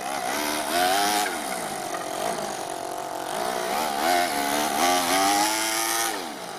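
Small Toyan FS-L200 engine in an RC Ford F450 truck runs steadily up close, its buzzing drone rising and falling in pitch as the throttle is worked.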